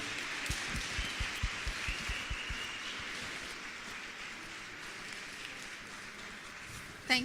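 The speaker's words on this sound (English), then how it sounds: "I think we should give you a round of applause" An audience at a youth construction summit claps in a short burst of scattered, distinct hand claps that settles into a soft, steady patter, with faint room murmur throughout.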